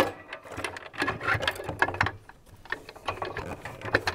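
Fasteners being tightened on an ADJ AV6 LED video wall panel mounted on its structure, giving repeated close ratcheting clicks in irregular bursts with brief pauses between them.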